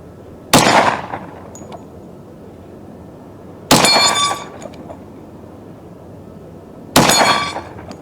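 Three loud, close gunshots from a Smith & Wesson M&P 10mm Auto pistol, evenly spaced about three seconds apart, each a sharp crack with a short echoing tail over quiet outdoor background.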